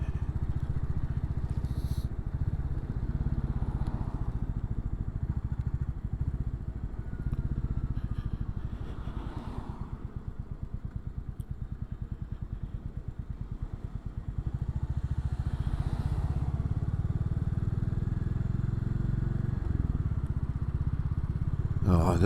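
Royal Enfield Classic 350 motorcycle being ridden, its single-cylinder engine rumbling steadily and close throughout, with a softer, rougher stretch midway before the drone swells again; no voices over it.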